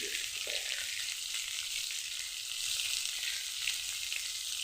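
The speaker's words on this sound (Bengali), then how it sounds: "মাছটা ভাজা হইতে হইতে যে আমার কাটা আলু কড়াইতে দিয়ে দেবো। আলুটা ভাজা হোক।" Cut potatoes fry in a wok beside frying fish, giving a continuous soft hiss of oil that stays even and fairly quiet throughout, with no voices.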